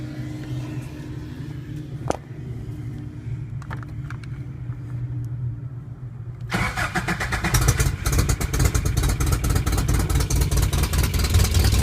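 A 1984 Toyota Pickup 4x4 engine cranks and fires up, then settles into a loud, steady rumbling run, close by and dominating the scene.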